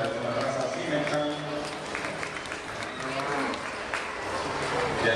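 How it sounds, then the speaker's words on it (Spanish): Audience applause at a livestock show in Managua, Nicaragua, honouring prize-winning Simmental cattle; steady dense clapping fills the whole stretch with a voice talking over it. "Un aplauso para estos ejemplares de la raza Cimental"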